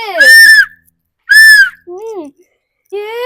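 A small toy whistle from a cheap gift box is blown close by in short, shrill bursts: two loud blasts, a softer warbling one, then a final toot.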